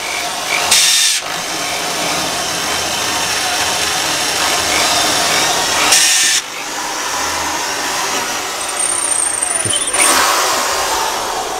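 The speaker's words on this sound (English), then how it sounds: "Just drilling at the moment." Power drill boring into material during a shed build, a sustained motor whir with short louder bursts marking several pauses and restarts, no speech heard.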